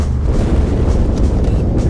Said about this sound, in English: That explosion came from inside the asset.